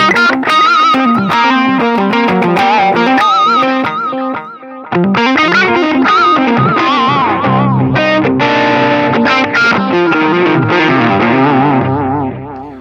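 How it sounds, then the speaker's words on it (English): An electric guitar played through a Line 6 Pod Express with the treble turned up rings out in distorted, effected chords and bent notes, loud and sustained, with a short dip in the middle. "hit this right here, Alt button, and turn the treble up, and hear how this sounds."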